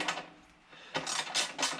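Bolts being tightened on the replacement recoil mechanism of a Power Devil PDG4350P mower: a short burst of metallic ratcheting clicks, a pause, then longer rhythmic ratchet strokes, close and fairly quiet.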